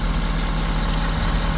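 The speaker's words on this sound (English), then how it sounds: "I'm letting the truck warm up now" A Ford F-250 pickup with the 6.7-liter Powerstroke diesel idles while warming up, giving a steady, loud, close rumble with a low hum and faint ticking clatter running unbroken throughout.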